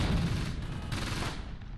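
Sustained gunfire from the World War II strategy game Close Combat: Gateway to Caen, a dense, continuous rattle of small-arms and machine-gun fire that holds steady throughout.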